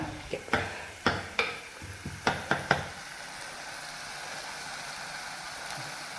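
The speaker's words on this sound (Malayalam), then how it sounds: "നമ്മൾ ജസ്റ്റ് ഒരു ഷാലോ ഫ്രൈ ചെയ്യും" Shallow frying in a pan for Kerala fish curry: a string of sharp clanks and scrapes of stirring over the first three seconds, then a faint steady sizzle alone.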